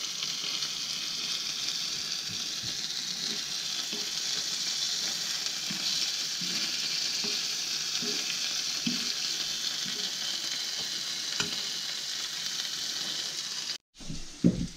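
Meat with a little ketchup frying in a pan, a steady close hiss and sizzle with occasional soft stirring taps, ending in a brief cut and a few louder knocks.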